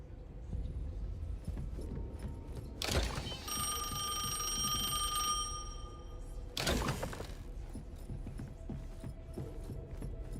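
Telephone ringing inside a building in the video game NTE, a bright, sustained electronic ring lasting a few seconds, framed by two loud broadband hits and set over low ambient game sound.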